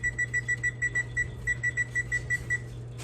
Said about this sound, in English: I'm going to use my stove timer